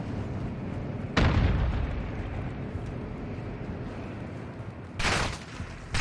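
Heavy explosions from a tank battle in Call of Duty: Modern Warfare 2, with two loud booming blasts standing out over a continuous rumbling din of combat.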